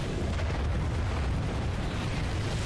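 A dense, roaring ion cannon explosion in Ratchet and Clank, loud and sustained with heavy low rumble and no pause.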